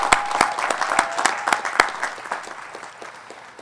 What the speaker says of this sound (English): Just give yourself a hand of applause.